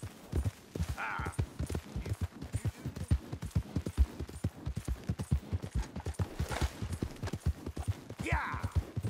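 Rapid hoofbeats of a horse galloping in Red Dead 2 pound in a quick, uneven rhythm, with a few brief snorts or breaths layered over the running.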